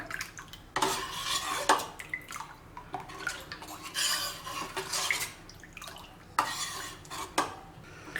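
Rava dosa batter being stirred again after salt is added: a spoon clatters and scrapes against a bowl in repeated bursts, close and moderately loud, with wet sloshing between strokes.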